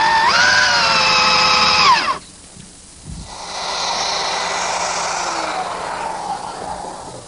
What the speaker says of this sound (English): using the same mortising jig I used earlier to do the rails, I'm mortising each post